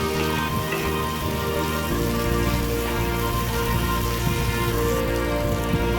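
Tomatoes and spices fry in a hot pan while being stirred, giving off a dense, steady sizzle and crackle that fills the whole stretch without pause.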